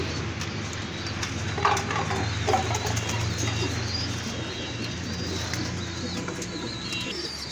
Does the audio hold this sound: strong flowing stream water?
no